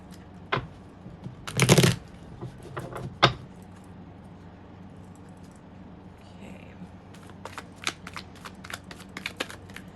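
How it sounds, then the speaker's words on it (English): Playing cards are shuffled in a couple of quick riffling bursts, followed by soft taps and light handling clicks in a quiet room. "Okay, one more shuffle."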